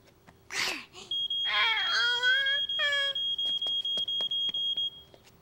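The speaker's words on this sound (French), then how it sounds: "nous allons réécouter le bruit que fait l'alarme pour pouvoir le reconnaître" Household smoke alarm in a French Caillou cartoon, sounding a rapid run of loud, piercing electronic beeps. It starts after a child's cry and whimpering vocal sounds and carries on steadily to the end.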